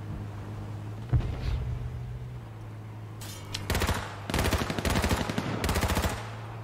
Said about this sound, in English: Triple kill with a sniper rifle.